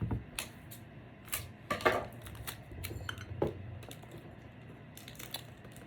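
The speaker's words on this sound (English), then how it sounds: "I am going to put the little spatula right beside it." A small spatula is set down on a hard surface while making blanket baskets, giving light clinking and tapping knocks, a few sharper clatters, in a quiet indoor room with no talking.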